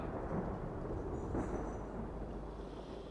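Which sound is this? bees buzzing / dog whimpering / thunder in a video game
thunder in a video game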